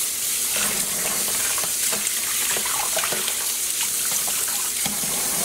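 Running water rinses freshly alum-mordanted wool yarn with clear dish soap, a steady close hiss and splash that continues without pause and carries no speech.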